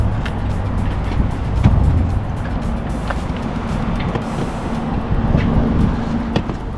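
Steady road and engine rumble from inside a car on a two-hour drive home, continuous and fairly loud with no break, and no talking.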